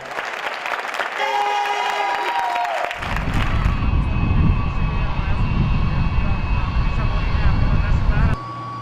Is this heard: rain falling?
no